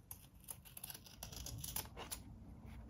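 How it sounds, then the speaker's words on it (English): Scissors trim excess fabric from a journal cover with a series of quick, close cuts, irregular in rhythm, sharp little crunches against a quiet room. "I'm just gonna trim off the excess here just with my scissors too"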